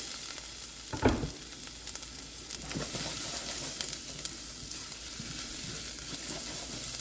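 Ginger and garlic sautéing in a pan, a quiet steady sizzle with a sharper stir or toss early on and light scraping under the hiss.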